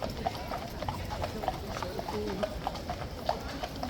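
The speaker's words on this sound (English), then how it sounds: "Those are not the only police horses in riot kit either." Police horses in riot kit walking, hooves clip-clopping in an irregular, steady rhythm on hard ground at moderate distance, with a faint murmur of voices and street ambience underneath.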